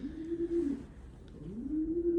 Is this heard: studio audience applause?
no